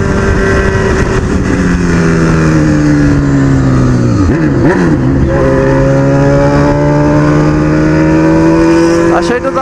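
A Honda CB1000 motorcycle engine holds high revs, loud and close, its tone sliding down and back up midway through as the rider shifts or eases off, with the motorcycle returning to sustained high revs.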